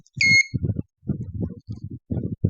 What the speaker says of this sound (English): the red LED lights up and the buzzer is uh, is on.